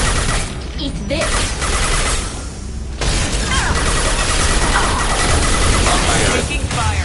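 Sustained heavy firefight in the game Mass Effect 2, loud rapid bursts and booms pounding almost without pause, briefly dipping around the three-second mark before resuming at full intensity.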